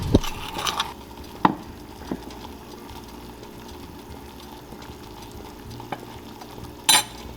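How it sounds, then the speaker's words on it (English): A spoon drops dried herbs and spices into a pot for a homemade natural tea, with scattered light clinks and soft scrapes against the pot, quiet and close, no talking. "I'm just gonna take my spoon here and I'm gonna spoon in my ingredients."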